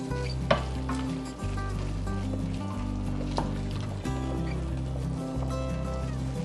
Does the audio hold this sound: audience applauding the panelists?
no